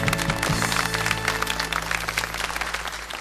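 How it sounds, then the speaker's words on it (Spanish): Studio audience on a Paraguayan TV variety show applauds steadily for a solo singer from Capiatá, a dense, even patter of clapping that stays loud throughout, with a low musical hum underneath. "Con esos aplausos aquí en el estudio"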